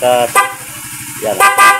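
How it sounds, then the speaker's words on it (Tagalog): A loud horn on a Suzuki Raider 150 Fi motorcycle honks in two bursts, the first short and the second longer and doubled, with a steady engine idle underneath. "passing niya is sa loud horn"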